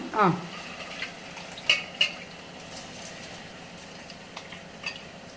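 Washed rice tumbles into a hot pan for gongura pulihora, followed by a soft, quiet sizzle with a few scraping stirs and light metallic clinks of a spoon against the pan.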